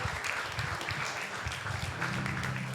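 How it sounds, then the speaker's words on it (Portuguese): A church congregation at a Christmas service applauds together in a steady wash of clapping. It is fairly quiet and distant, with a low hum beneath. "Uma salva de palmas para todos eles"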